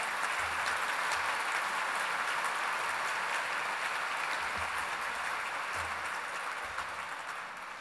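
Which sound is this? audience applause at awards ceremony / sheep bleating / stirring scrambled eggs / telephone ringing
audience applause at awards ceremony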